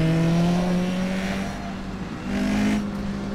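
A race car in the rFactor 2 racing simulator from an IMSA old-school class, with a steady engine drone that dips in the middle and then swells again, heard alone without talk.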